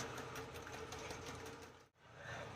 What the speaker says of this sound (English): so I broke out the hand mixer